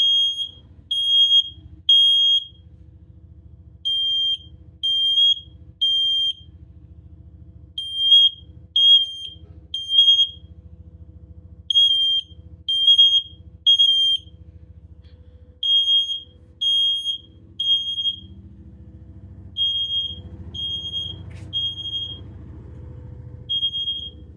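A loud, piercing carbon-dioxide-themed fire alarm beeps in repeated short bursts with brief pauses during a test, a low rumbling hum underneath and some clatter near the end.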